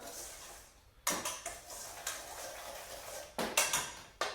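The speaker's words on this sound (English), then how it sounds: "we're just mixing the egg into the butter and the sugar mix, just until it combines like so" Egg is mixed into creamed butter and sugar in a bowl, with sharp irregular clicks and taps of a utensil against the bowl sounding close and fairly quiet.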